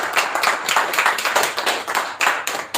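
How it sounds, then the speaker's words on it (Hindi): A small audience at a sales training session claps for a man called up to the front, giving quick, distinct hand claps in a brisk, slightly uneven rhythm. "एक बार सुमित जी के लिए दुआ से तालियां हो जाए"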